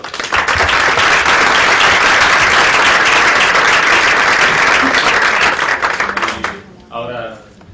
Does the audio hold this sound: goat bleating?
no